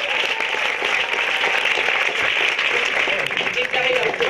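An audience applauds an arriving guest with a dense, steady wash of clapping that holds at an even level throughout, with a voice audible underneath.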